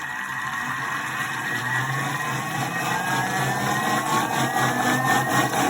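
A kitchen food processor runs at speed 7, blending a coconut chicken sauce with carrot and courgette, a steady loud motor whir with rising tones as the speed climbs.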